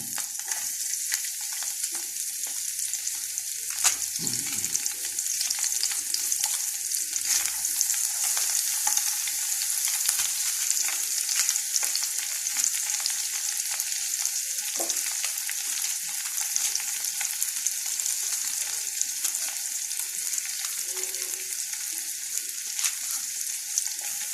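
Onions frying in a pan, likely white onions, give a steady, close sizzle that runs without pause, with a few scrapes of stirring now and then and no voices.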